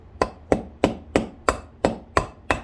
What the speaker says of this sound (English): So you just keep pounding and pounding and pounding.